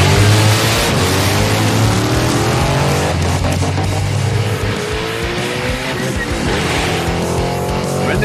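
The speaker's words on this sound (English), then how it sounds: "And the Ute found the rev limiter." A Pursuit Ute drag racing down the strip, its engine roaring loud and close as it bangs against the rev limiter, with tire noise throughout and no talk.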